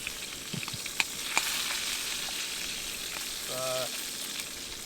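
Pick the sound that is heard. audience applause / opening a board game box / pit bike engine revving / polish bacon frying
polish bacon frying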